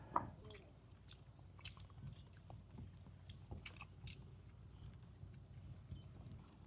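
A group of fishermen eating a fish meal while seated together on a boat on the Padma river, with quiet scattered chewing, biting and soft crunches, faint clicks and distant sounds in an otherwise calm setting.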